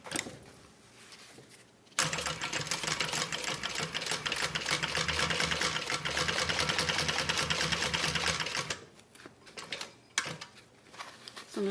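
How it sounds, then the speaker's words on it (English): A sewing machine stitches all the way around elastic fabric pieces in one steady, close burst of rapid mechanical whirring lasting several seconds, with quieter handling noises before and after. "we're going to go ahead and sew all around both of these pieces"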